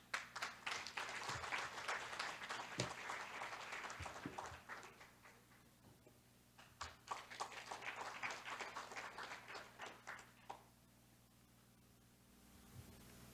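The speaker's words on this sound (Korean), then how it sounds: "박경량 의장님을 큰 박수로 모시겠습니다" Audience at an artificial intelligence forum seminar claps faintly and at some distance in two bursts, with a low steady hum underneath and a quiet gap near the end.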